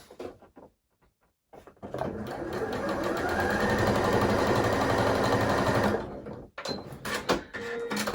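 A sewing machine runs steadily for about four seconds, stay stitching along a large bias edge of dressmaking fabric at a 1 centimetre seam, a loud continuous whir that starts and stops cleanly between quiet handling noises.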